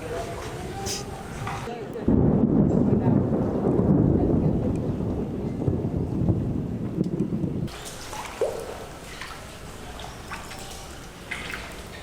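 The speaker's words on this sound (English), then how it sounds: "it's like raining and lightning, thundering" A deep rumble of thunder rolls through for several seconds amid rain and dripping water, with quieter patter before and after and occasional talk.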